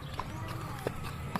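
Horses' hooves clip-clop on pavement at the Mayohan Festival horse ring-jousting event in Tayabas, Quezon, with a few spaced sharp knocks amid steady crowd noise and nearby talking.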